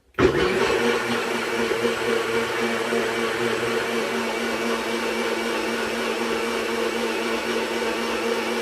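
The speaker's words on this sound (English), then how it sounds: "you're going to hear a loud noise. It's my blender." A blender starts abruptly and runs steadily with a loud, whirring motor drone that holds constant to the end.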